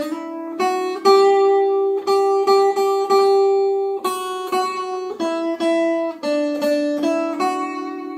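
A plucked guitar picks out a simple melody, one clear note after another in an even, unhurried rhythm, with no other sounds.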